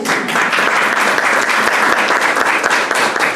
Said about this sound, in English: if we haven't given a proper round of applause for Christy yet as our chair